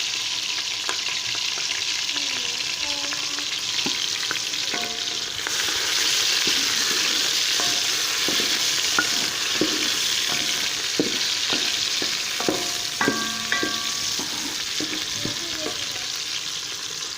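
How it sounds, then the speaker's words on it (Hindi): Onion fries in hot oil until golden, giving a steady, close sizzle that runs throughout, broken by light taps and scrapes of a spatula stirring the pan. "ऑयल हमारा गर्म हो चुका है, अभी इसमें हम प्याज शामिल कर लेते हैं। ये प्याज को हम इसको सुनहरा होने तक पकाएं"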